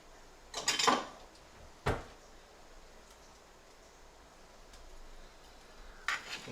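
Food scooped into a bowl while cooking, a few scattered clinks and scrapes of a utensil against dishware, close and fairly quiet with pauses between them.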